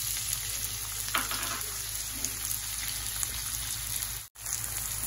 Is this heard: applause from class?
no